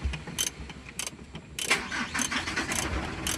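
A Mitsubishi Canter truck with a 4M42 diesel engine cranks and fires on one click, short starter bursts leading into a rough nearby idle, fairly quiet overall.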